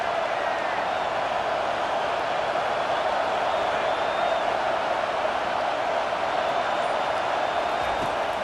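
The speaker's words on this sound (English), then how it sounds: "Listen to this crowd just shaking the girders of this place trying to help their defense." Dense stadium crowd roar from College Football 25, a steady loud wash of cheering that holds without a break throughout.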